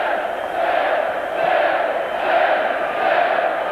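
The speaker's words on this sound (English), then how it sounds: "And listen to the crowd." Hockey crowd roaring steadily in an arena after a Wisconsin Badgers goal against the Maine Black Bears in a 1990 NCAA game, a loud sustained wash of cheering that swells and rolls throughout.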